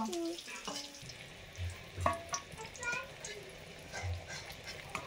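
Eggplant slices fry in hot oil with a low, steady sizzle, accompanied by soft clinks and stirring noises in a home kitchen.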